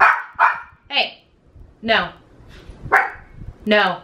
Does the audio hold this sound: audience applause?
no